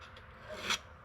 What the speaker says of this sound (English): pass the stone backwards and forwards against the teeth